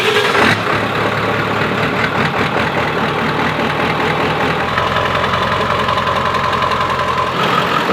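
A 2022 Ford F-350 Platinum dually pickup cranks briefly, catches, and settles into a loud, steady close-up idle with a rough mechanical knock, then the engine note drops slightly near the end.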